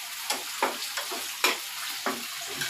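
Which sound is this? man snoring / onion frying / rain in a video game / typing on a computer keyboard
onion frying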